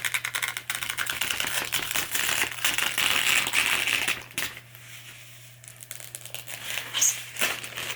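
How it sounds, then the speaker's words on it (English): Protective plastic film peeled off a Corsair 4000D Airflow PC case, a steady close crinkling and crackling tear lasting several seconds, then quieter intermittent rustles and small plastic handling clicks. "I need to do the peel, right?"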